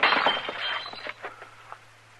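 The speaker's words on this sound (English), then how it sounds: "You knocked that glass out of my hand." A drinking glass is knocked out of a hand and shatters with a bright crash, followed by a scatter of tinkling fragments that fade over about two seconds against a quiet low hum.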